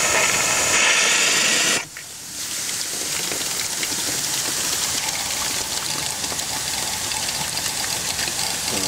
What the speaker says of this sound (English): I'll first turn on the injector.